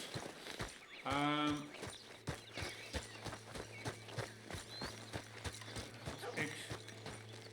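A horse in Red Dead Redemption 2 walking, its hooves clip-clopping in an even rhythm through the clip, with a brief snort or whinny near the start and game ambience under it, fairly quiet.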